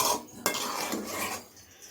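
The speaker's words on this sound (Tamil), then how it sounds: "நல்லா மெதுவாக கிளறி விடுங்க" A metal spoon scrapes and clinks against a pot as aviyal, a South Indian vegetable dish, is slowly stirred, close and brief.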